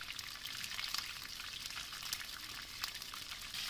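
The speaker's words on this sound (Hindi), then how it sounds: "बाद में इसको पलट के हम स्किन वाली साइड को फ्राई करेंगे। आंच आपकी तेज़ होनी चाहिए।" Fish pieces frying in a pan of oil over high heat, giving a steady, close hiss of crackling sizzle with scattered sharp spits throughout, no voices.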